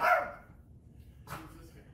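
A dog barks twice, one sharp bark at the start and another about a second later, at moderate distance and fairly quiet, with no one talking over it.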